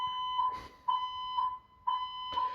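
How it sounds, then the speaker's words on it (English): A building fire alarm blares indoors in a loud, regular cycle of piercing electronic tones, repeating roughly every second with brief dips between pulses. "they've pulled the fire alarm."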